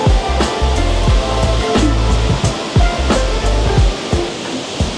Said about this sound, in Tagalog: There's another waterfalls right there.